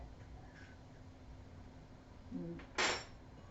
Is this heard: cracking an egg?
yes